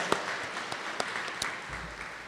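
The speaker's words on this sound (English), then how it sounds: "that's a round of applause in itself" Sparse applause from an audience at a school student awards ceremony, a thin spread of claps with a few sharper individual claps, fairly quiet and steady throughout.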